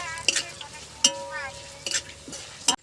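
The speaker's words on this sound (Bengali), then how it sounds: "এখন লঙ্কাগুলো ভেজে নেব।" Chillies frying in a pan for a Bengali fish fry meal, a soft sizzle with intermittent stirring clatter and clinks of utensil against the pan, close by, with faint voice-like sounds in places.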